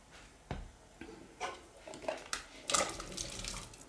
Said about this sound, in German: Erstmal siebe ich das Wasser ab.